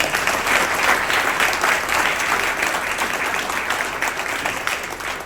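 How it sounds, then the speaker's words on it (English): Sustained applause from a large audience at a Democratic Party county gala dinner, a dense, steady wash of clapping that stays loud throughout with no voice over it. "A round of applause to Simon"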